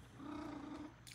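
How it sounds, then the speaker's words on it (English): A low, rolling Maine Coon cat trill, steady and close, lasting about a second before a brief soft rustle. "They make all kinds of little, funny little sounds. It's called trilling"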